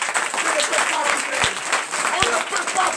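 A church congregation claps and cheers loudly and steadily, filling the space with dense applause.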